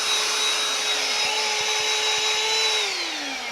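A Ryobi One+ cordless vacuum runs on a carpet rug with a loud, steady high-pitched motor whine, and its pitch drops as it winds down at the end.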